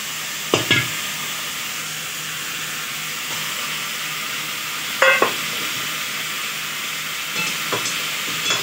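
Mixed vegetables for a vegetarian labra curry stirred in a hot pan, a soft constant sizzle with a few sharp clanks of the spoon against metal at intervals.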